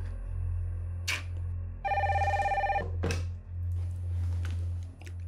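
An old-style telephone bell rings in a quiet room, one short burst and then a longer sustained trill, close and fairly loud over a low steady hum.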